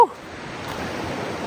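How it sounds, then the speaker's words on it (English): A roaring river below a riverbank campsite, with the river partly iced over, gives a steady broadband rush of water, continuous and fairly loud, with a brief sharp sound at the very start. "I wanna go check the river out. It is roaring."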